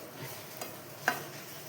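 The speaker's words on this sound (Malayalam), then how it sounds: "അപ്പോൾ ഇതാ തേങ്ങ വറുത്ത് നല്ല കണ്ടീഷനായിട്ടുണ്ട്." Grated coconut is stirred as it roasts on low heat in a pan, a faint soft rustle with a couple of light spatula taps; no one talks.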